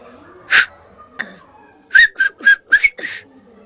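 Sharp, loud Silbo Gomero whistled notes from La Gomera, used to talk across ravines: one alone, then a quick rhythmic series of piercing whistles carrying across distance.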